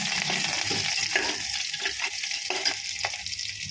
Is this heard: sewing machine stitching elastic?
no